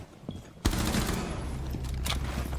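Gunfire from a replayed round of a first-person shooter game: one sharp close shot, then a dense sustained burst of rapid fire with crackling impacts, loud and continuous to the end.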